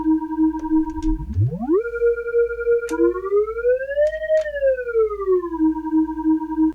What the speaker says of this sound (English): And the pipe glide, which sounds more like a slide whistle.